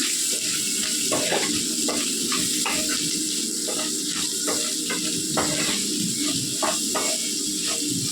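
Amaranth leaf curry with onions, green chillies, salt and turmeric sizzles steadily in a pan while a spoon stirs it in repeated scraping strokes, close and continuous with no talking.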